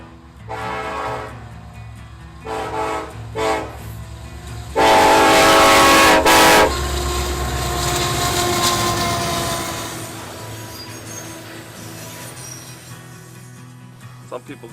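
A manifest freight train nicknamed the Roger passes nearby with a loud, sustained horn blast and heavy rumbling wheels, then rolls on in a long steady grind that gradually fades, with brief talk early on.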